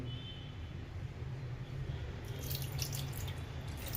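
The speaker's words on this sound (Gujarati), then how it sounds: "તો અઢીસો એમએલ પાણી નાખી દઈએ" A low hum runs throughout, then partway through a stream of about 250 ml of water starts pouring and splashing steadily into a pan of spices for chutney.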